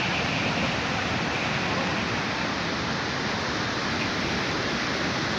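Roaring waterfall at Bhivtas pours as a dense, steady wall of rushing water, loud and close, unbroken from start to finish with no voices.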